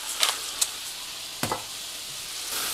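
Vegetables for a frittata sizzle in a pan, a soft steady hiss broken by a few faint clicks and scrapes of stirring, with no talking.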